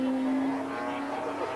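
Superbike racing through a chicane in a 1984 road race, a loud steady engine drone with a sustained high whine rising slightly as the bike carries through the turn, filling the whole moment without a break.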